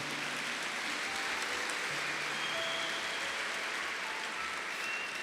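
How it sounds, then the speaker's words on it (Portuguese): A congregation at a Portuguese-language sermon applauds in a steady, dense wash of clapping that sounds almost like rain, even and sustained with no voice over it. "E se vocês estão aplaudindo é porque é verdade"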